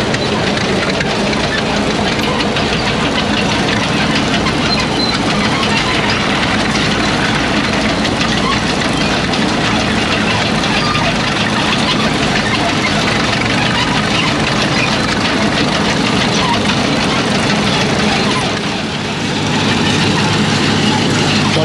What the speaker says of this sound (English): Russell steam engine running the crusher.